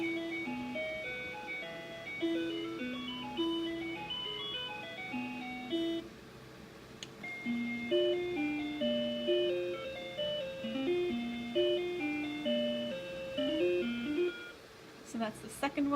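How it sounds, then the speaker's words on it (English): A Breville Smart Scoop ice cream machine plays electronic chime tunes in the style of an ice cream truck, bright melodic beeps in successive phrases with brief pauses between them. "there's three little ice cream truck kind of sounds as if you were to hear them in an ice cream truck"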